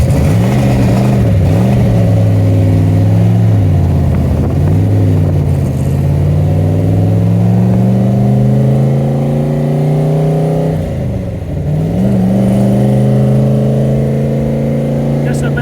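A modified 1969 Corvette 427 with a 435 hp V8 idles roughly and is revved, its loud deep engine note rising and falling in pitch through several revs, close to the microphone, with someone talking over it.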